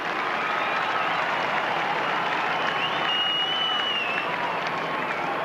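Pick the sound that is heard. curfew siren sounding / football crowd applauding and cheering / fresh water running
football crowd applauding and cheering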